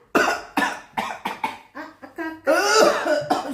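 An elderly man's repeated harsh coughing, a rapid series of about eight bursts followed by a longer wheezy, strained cough, close and loud.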